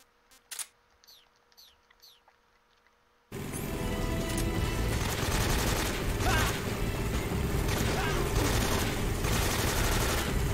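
Rifle gunfire erupts in Metal Gear Solid 3 at Groznyj Grad. A few faint sharp sounds and quiet chirps give way to a sudden, loud, sustained barrage of rapid shots that carries on without letup.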